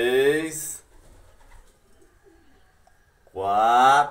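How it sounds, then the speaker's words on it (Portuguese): Pigeons cooing at their nests in a loft where several pairs are brooding eggs: two loud, close bursts of low, throaty calls at the start and end, with quieter rustling between them. "Essa pomba aqui tá com o primeiro ovo no ninho."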